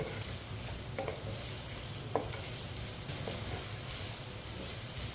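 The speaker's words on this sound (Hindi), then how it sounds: "इसे लाजम 2-3 मिनट के लिए ना अच्छी तरह फ्राई कर लेना" Tinda (round gourd) pieces frying in a pan for a vegetable curry, giving a steady close sizzle with occasional stirring clinks throughout, no voices.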